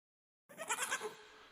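A goat bleat sound effect played as a stream chat trigger starts abruptly after silence, a short wavering cry with several quick pulses, heard alone and fairly close.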